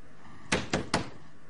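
Three hard bangs on a locked door, a fist pounding wood in quick succession, loud and close with short gaps, in an otherwise quiet room.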